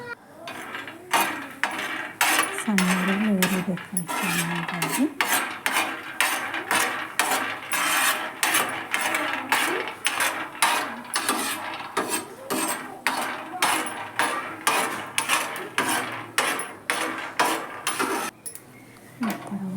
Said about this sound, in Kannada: ಒಂದು ಬೌಲ್ ಶೇಂಗಾ ಬೀಜ ಹಾಕ್ತೀನಿ ರೀ ನಾನು ಚಂದ ಹುರ್ಕೋಬೇಕು